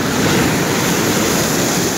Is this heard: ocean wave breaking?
yes